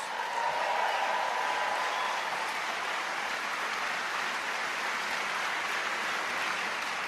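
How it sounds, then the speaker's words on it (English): A large crowd claps in a sustained, even wash of applause at a political event in New York, heard at a distance as continuous noise with no distinct individual claps. "give them a big round of applause"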